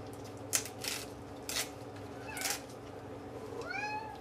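A hungry cat in a home kitchen meows for food, several plaintive cries with a longer rising meow near the end, heard against soft kitchen clatter and background hum.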